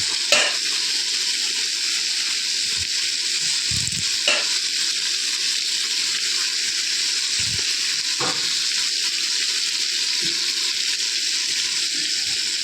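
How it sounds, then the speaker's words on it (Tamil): Curry leaves frying in hot oil in a pan for a dal curry, a steady loud sizzle that hisses without letup, with a few faint clinks of a utensil. "நல்லா ஃப்ரை ஆகிட்டு இதில் நம்ம இதை கறிவேப்பிலை போட்டுடலாம்."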